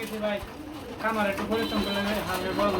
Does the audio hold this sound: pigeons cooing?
yes